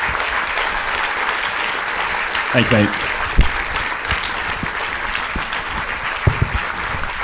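Audience applause at a 2020 economics conference in Adelaide, a steady wash of clapping running the whole time with a few louder claps on top, while someone speaks briefly over it.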